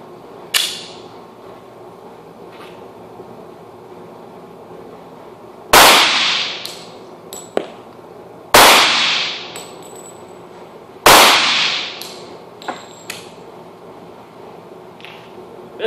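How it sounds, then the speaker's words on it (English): A Springfield XDS .45 pistol fires outdoors: several loud, sharp gunshots, each with a ringing decay, spaced a few seconds apart. Smaller clicks and clatter of handling fall between the shots. "we'll shoot it here in a minute."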